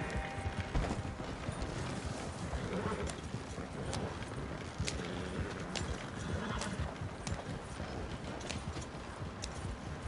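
Horses galloping in Red Dead Redemption, rapid hoof clip-clop with wagon rattle and mechanical clatter, a brief whinny, steady and fairly close under occasional talk.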